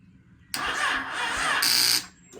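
A Yamaha FZ6 motorcycle engine cranks weakly on a low battery without catching, a steady strained starter whir lasting about one and a half seconds, close and fairly loud, then cutting off.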